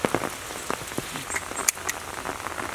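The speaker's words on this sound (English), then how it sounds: "If you haven't shot in the rain," Steady rainfall patters outside during a Troy A4 grip test at a shooting range, with irregular close drops ticking on surfaces over a constant wet hiss.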